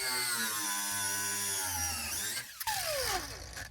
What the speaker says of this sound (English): I'm going to cut this brake line